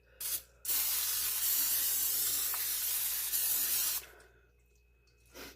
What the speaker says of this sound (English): I'm going to spray some nonstick.